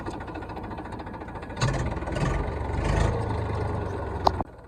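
A farm tractor engine rumbles low and steadily from about a second and a half in, holding for a few seconds with a sharp knock before abruptly cutting out.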